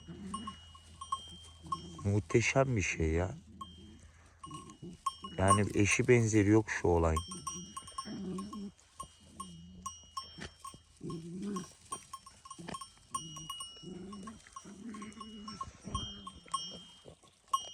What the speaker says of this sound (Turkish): Koyunlar çanı takip ediyor